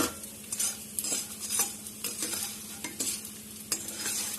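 Edible gum (gond) roasting in ghee for a Janmashtami meva paag, with a soft steady sizzle under repeated scraping strokes of a spoon against the pan at an irregular rhythm, close up and with no talk.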